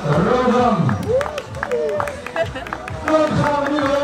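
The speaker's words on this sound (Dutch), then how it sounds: "Nog een applaus voor Mira, Rebecca en Rodan." Crowd at the Klepperstadloop Hardenberg 2022 running race ceremony clapping in applause for the runners, light scattered claps under an announcer's amplified voice.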